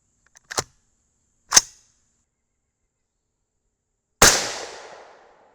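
Three sharp, separate rifle reports from a suppressed .224 Valkyrie loaded with 26.3 grains of H4350 behind 90-grain Sierra MatchKings, fired from a front rest: two quick cracks, then a louder one after a pause that trails off slowly.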